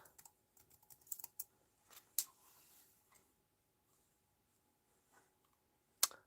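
Scattered keystrokes on a computer keyboard, searching for cushions while making floral stamped card craft: quiet, irregular clicks in short bursts with long pauses, a few sharper taps standing out.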